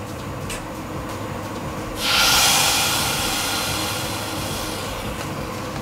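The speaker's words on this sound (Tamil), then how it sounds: "அந்த எண்ணெயில் நல்லா சூடாகிட்டே இருக்கு. இப்போ நம்ம எண்ணெயில் போடலாம்" Achu murukku (rose cookie) batter is lowered into hot oil, bringing a sudden bright hiss that swells and then eases into a steady, softer sizzle over a low background rumble.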